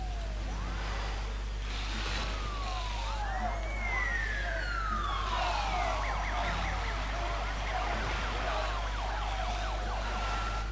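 An ambulance siren in the video game SimCity wails, sweeping up and down continuously over a low steady engine hum, with rapid yelping bursts mixed in.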